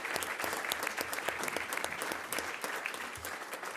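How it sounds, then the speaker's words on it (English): A school board meeting audience gives exceptional elementary students a steady round of applause, dense even clapping from a mid-sized room that holds at a constant level throughout with no talking. "help me in one more big round of applause for these exceptional students"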